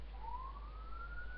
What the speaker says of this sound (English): How many more sirens am I going to hear today?